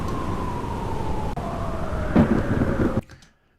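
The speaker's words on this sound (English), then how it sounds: "That's a thunder noise." A thunder sound effect rumbles continuously with a sustained tonal hum running underneath, swelling briefly near the end before cutting off abruptly into silence.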